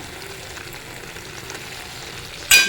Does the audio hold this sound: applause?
no